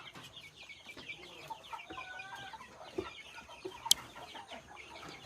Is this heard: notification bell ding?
no